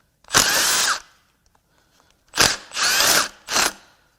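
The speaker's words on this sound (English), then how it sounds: "now we'll start zipping bolts out of the intake manifold" Power tool zips bolts out of the intake manifold of a Volkswagen 2.0 TDI engine in four loud, close bursts, one long whir followed by a pause and then three quick whirs in succession.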